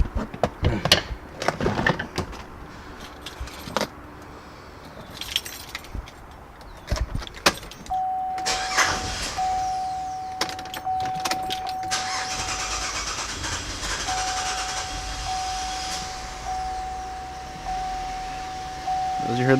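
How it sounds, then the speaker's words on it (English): A car engine with a direct-injection system cranks and catches after an intake cleaning treatment. Scattered clicks and a key jangle come first, then the engine starts and settles into a steady idle with a thin whine. Brief talk is heard. "We're going to start the car up. It may struggle to start elongated crank just now."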